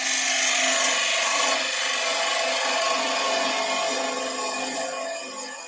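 A small gouge cuts a spalted beech pumpkin box spinning on a wood lathe, giving a steady, close, continuous scraping hiss with a faint motor whine that eases slightly toward the end, with no voices.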